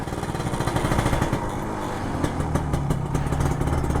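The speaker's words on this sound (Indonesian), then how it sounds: "Nih gue bener-bener mau manasin ninja." A freshly serviced old Kawasaki Ninja RR 150 two-stroke motorcycle idles while warming up, a close, loud, rattling engine putter that runs continuously with a slightly uneven, pulsing rhythm.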